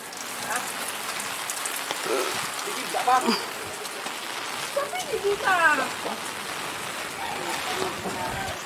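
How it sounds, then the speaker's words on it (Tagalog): Steady rain pattering on a surface during a town fiesta, a constant wash of drops, with people talking faintly underneath. "ulan ng ating piyesta"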